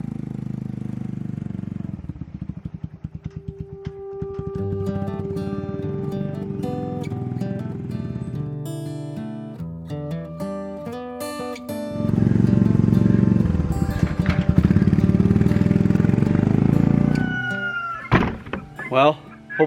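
An ATV engine runs with a trailer hooked up, idling and revving through a steady mechanical drone with shifting harmonic whine. It gets louder and rougher toward the end, then a few sharp clunks follow. A voice speaks in places.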